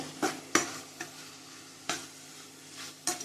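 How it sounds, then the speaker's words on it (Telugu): Chicken frying in oil with masala is stirred. A spoon scrapes and clacks against the pan in several sharp strokes, while a soft sizzle runs continuously underneath. "మసాలా కలుపుకుందామండి బాగా బాగా ఆయిల్లోనే కుక్ కావాలండి"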